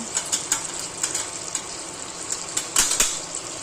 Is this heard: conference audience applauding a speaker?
no